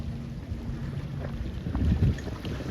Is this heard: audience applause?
no